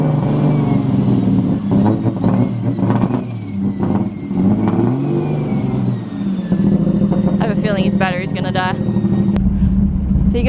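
A loud JDM car engine revs and pulls on a test drive after sitting unused for about a year, its droning, rising tone running steadily throughout while people talk over it.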